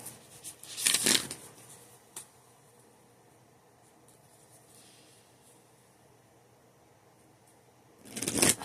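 Two bursts of card shuffling, a riffle near the start and another at the end, with a quiet stretch between.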